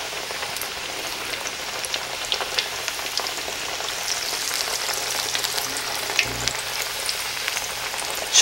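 Breaded meat pieces for cream chops crackle and spit steadily in hot oil, a dense close sizzle with scattered louder pops, no voices.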